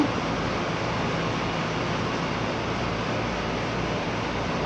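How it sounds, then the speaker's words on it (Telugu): Air conditioner units outside neighbouring apartment buildings produce a steady, unbroken hum and whoosh that stays level throughout, with no talk. "ఈ సౌండ్ అంతా కూడా ఏసీల సౌండ్ అండి."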